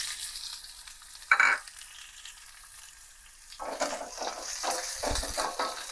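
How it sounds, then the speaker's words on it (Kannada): Chopped onion frying in a pan for a North Karnataka style dish, a quiet sizzle with a clank near the start, then louder crackling and stirring scrapes, no talk. "ಈ ಉಳ್ಳಾಗಡ್ಡಿ ಸ್ವಲ್ಪ ಮೆತ್ತಗೆ ಫ್ರೈ ಆಗ್ಬೇಕು ನೋಡ್ರಿ"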